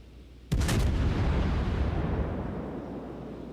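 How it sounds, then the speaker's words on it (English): A naval gun salvo fires in a warship video game: one sudden loud booming blast that rolls into a long, slowly fading rumble. "I can probably get one more salvo in."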